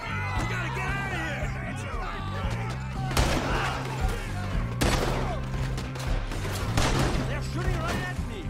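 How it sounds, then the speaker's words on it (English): Gunfire during a shootout in Red Dead Redemption 2, sharp shots cracking out every second or two over a steady musical and ambient bed, with voices shouting between the bangs. "They're shooting right at me."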